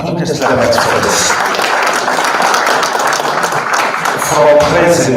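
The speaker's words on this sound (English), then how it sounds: "Can we just clap hands for this?" An audience at a media launch event claps its hands together in a dense, steady burst of applause lasting several seconds, with voices mixed into the crowd noise.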